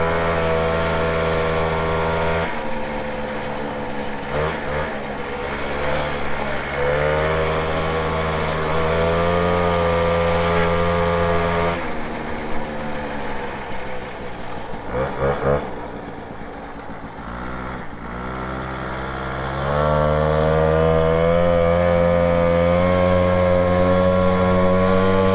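A Motobécane 50V moped with a non-original exhaust runs close by at part throttle. Its two-stroke engine revs up and down repeatedly in rising and falling buzzing sweeps, dipping briefly before revving harder again.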